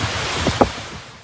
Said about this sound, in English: Here in Kingston, you can see the winds picking up in the background.